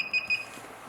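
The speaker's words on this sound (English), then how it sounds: "now the pager can beep, shake, and flash." A wireless restaurant queue pager gives two short, bright electronic beeps in quick succession, close and fairly loud, then fades in a quiet room with no talking.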